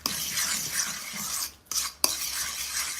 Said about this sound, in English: So 3 eggs here in a mixture, and I will just mix that a little bit like this.